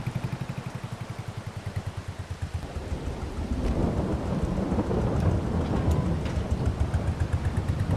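Thunder rumbles and steady rain pours in a Farming Simulator 22 storm, a low throbbing engine-like pulse giving way around the third second to a louder, continuous wash of rain and rolling thunder.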